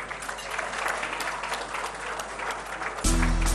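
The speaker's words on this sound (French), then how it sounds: "Mesdames, Messieurs, ça mérite des applaudissements." Audience applause at a business gala honoring the Banque Internationale du Mali, a sustained wash of many hands clapping in a large hall, with a low hum entering near the end.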